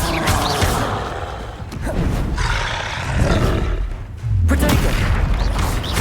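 Confringo spell blast from the Hogwarts Legacy video game, loud roaring bursts of fiery explosion layered with game sounds, repeated blasts across the span with a fresh booming surge near the end.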